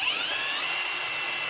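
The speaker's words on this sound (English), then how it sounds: "Alright, we'll get our first drill." Power drill running steadily at high speed while building a garage lift from pallet racking, a continuous loud whine held close up for the whole moment with no talk.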